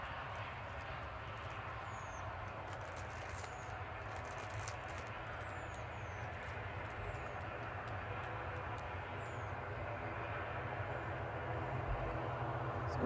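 EasyJet airliner pushing back and taxiing at Manchester Airport, a steady distant low engine drone with a faint whine that swells slightly toward the end.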